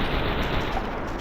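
Gunfire from a first-person shooter video game, slowed and distorted by a bullet-time effect, forming a dense, continuous, loud smeared roar across the whole clip rather than distinct shots.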